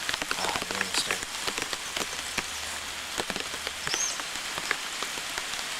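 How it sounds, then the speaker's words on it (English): Rain beginning to fall in a Venezuelan cloud forest, a steady hiss of drops pattering on leaves and surfaces with scattered sharper taps, fairly close and continuous with no talk. "So the rain's just starting."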